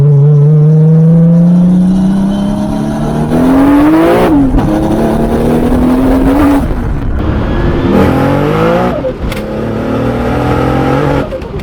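A Holden Commodore VL Turbo with a fully built Nissan RB30 engine revs loudly and close, its pitch climbing and dropping through several sharp throttle blips and sustained high-rev pulls with no talk over it.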